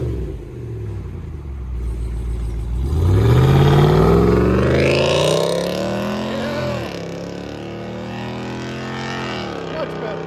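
A RAM 2500 Power Wagon with a 6.4L HEMI V8 and modified exhaust revs up loud and close, the engine note rising sharply, peaking, then settling back toward a rumbling idle as people talk over it.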